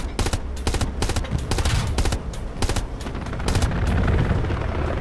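Gunfire in the World War II shooter Hell Let Loose: dense bursts of automatic fire and crackling rifle shots in rapid succession, with heavy booms building toward the end.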